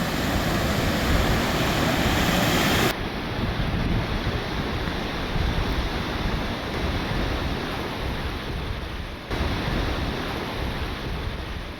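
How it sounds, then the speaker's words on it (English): Ocean waves breaking on a beach in a Maine cove, a steady loud wash of surf roaring close by with heavy wind buffeting the microphone and no voices. "Lots of waves."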